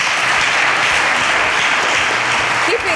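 Loud, dense audience applause at a TV show taping, a thick wall of clapping from a close crowd that holds steady throughout, with faint voices underneath.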